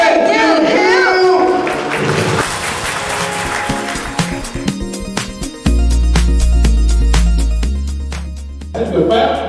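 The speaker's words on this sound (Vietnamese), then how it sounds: "xin một tràng vỗ tay thật lớn để đón chào tiến sĩ Lê Kim Hiếu" An audience at a business gala applauding to welcome Dr. Le Kim Hieu on stage, clapping blended with loud, beat-driven stage music.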